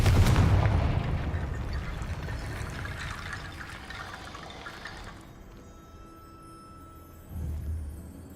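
A Confringo fire spell in Hogwarts Legacy bursts with a heavy, rumbling blast that decays into a long fading roar and crackle, followed by a quieter dull thump near the end.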